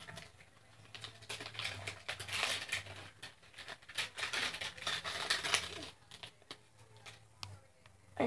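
LOL Surprise toy packaging being torn open, a dense run of crinkly ripping and crackling bursts at close range with a low hum underneath, briefly pausing near the end before a final tear.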